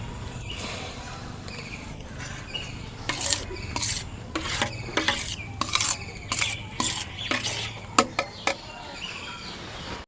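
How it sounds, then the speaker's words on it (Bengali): Scraping and stirring of raw mango pulp cooking in a pan, with a run of sharp rasping strokes in the middle and a faint sizzle underneath. "উনুনে কড়াই বসিয়ে দিয়েছি এবার এই আমের এই মিশ্রণগুলো দিয়ে দেব"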